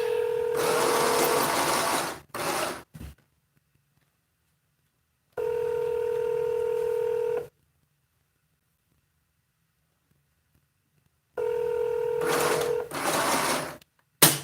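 A sewing machine stitches in three separate bursts of steady humming whir, close and fairly loud, broken by long silent pauses and a few clicks of the mechanism, with no talk.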